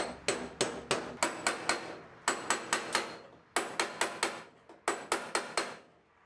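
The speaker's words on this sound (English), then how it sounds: "I'm just hitting the panel underneath, knocking it away from the top panel." A hammer taps a Mustang GT parts car's pillar to break spot welds loose, striking in quick bursts of four to six sharp metallic hits separated by short pauses, close and clear.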